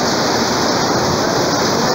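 Torrential heavy rain pours down in Arequipa, a dense, steady roar of water filling the air continuously and loudly without a break.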